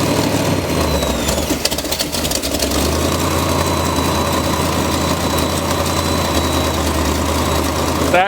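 A rat rod hot rod engine idles with a deep, lumpy rumble and steady low throb, close and loud, with some brief rattling early on.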